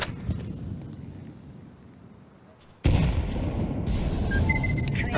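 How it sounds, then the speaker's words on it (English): A flashbang goes off in the military shooter Arma 3 with a sudden loud, close bang partway through, followed by a sustained rushing roar that stays loud to the end. "Flashbang."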